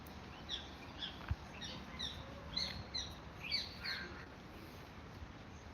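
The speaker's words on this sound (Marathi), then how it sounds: "पक्ष्यांचा सुद्धा किलबिलाट" Small birds chirp outdoors in the rainy grounds of a hilltop temple, giving scattered faint tweets over soft, steady background noise, with no people talking.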